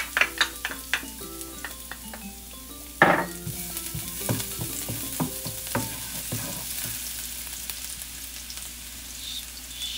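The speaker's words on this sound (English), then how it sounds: "We're gonna fry our shrimp." Shrimp and garlic hit hot olive oil in a stir fry, with sharp clinks of a utensil against the pan, a loud burst as food drops in, then a steady crackling sizzle.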